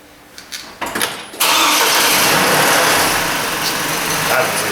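A Chevy Colorado's engine cranks with a few stuttering turns, then catches and settles into a loud, steady idle close by, the starter's short bursts giving way to a continuous engine roar.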